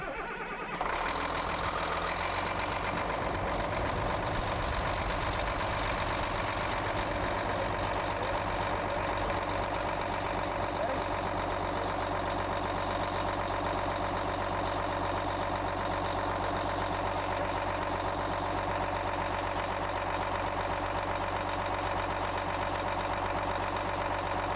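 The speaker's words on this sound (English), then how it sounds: "I'm going to have my assistant go ahead and start the machine up for us now." Machine engine cranking to life at the start, then settling into a steady, continuous idle for the remainder, moderately loud and unbroken with no talk.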